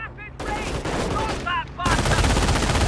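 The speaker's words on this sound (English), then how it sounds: "they add additional firepower to the half-track's own machine gun" A half-track's machine gun rattles in rapid, loud bursts in Company of Heroes, the dense automatic fire swelling and continuing to the end amid other battle noise.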